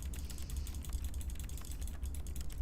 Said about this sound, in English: Well, I'm hearing typing sounds, but I sure do not see anything appearing.